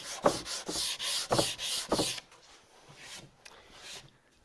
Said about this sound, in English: we don't need to do that when we're hand sanding